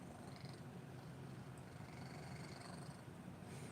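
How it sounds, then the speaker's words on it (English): A pet cat purring softly and continuously up close, a low steady rumble in a quiet room with no talking. "he's purring like nobody's business"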